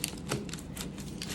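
A knife sawing through soft dinner-roll focaccia made in a crockpot, a short run of quick scratchy strokes, close and quiet.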